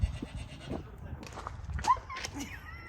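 A goat bleats briefly at a petting zoo near Carcross, Alaska, amid background chatter and shuffling, with people talking nearby throughout.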